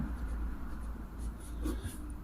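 Math equations are being written by hand, giving a soft, continuous scratching of pen or pencil on paper, quiet and close, with no talking.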